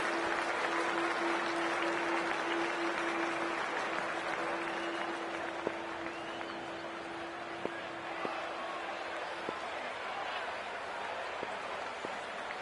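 A cricket crowd in the stands applauding at the start of play, a broad continuous wash of clapping that carries on throughout, with a steady tone and a few sharp clicks over it.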